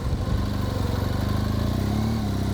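A BMW motorcycle engine runs steadily at raised revs, around 1,500 to 2,000 RPM, while prepared for a hill start, giving a loud, continuous close-up drone with a faint mechanical clatter.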